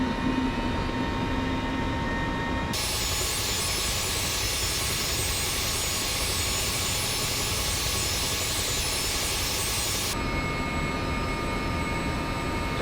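A Mil Mi-2 helicopter engine spools up inside a flight simulator game, giving a loud, steady turbine whine and roar that swells to a higher pitch partway through, then drops back near the end, with no voices.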